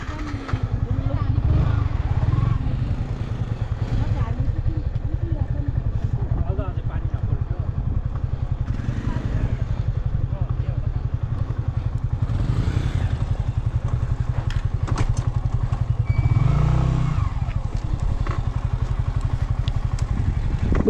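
A motorcycle on a dusty mountain trail between Salleri and Lhamuje in Solukhumbu, Nepal, its engine droning steadily and close for the whole stretch, with a rider's voices talking over it.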